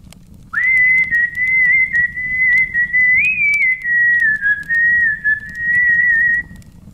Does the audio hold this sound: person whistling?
yes